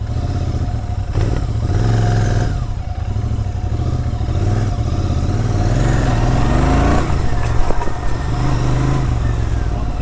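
A Royal Enfield Interceptor motorcycle engine runs steadily throughout while riding, a loud continuous low rumble with revs rising and falling and some clattering toward the end.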